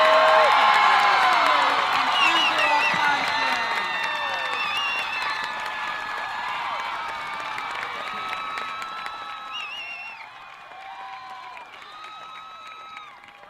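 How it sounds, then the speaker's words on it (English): A crowd at a marching band night applauds the Edgewood Warrior Marching Band, host band at its 50th Warrior Band Night, with dense clapping, whistles and cheers that fade gradually over about fourteen seconds. "we'd like a round of applause for our host band, the Edgewood Warrior Marching Band"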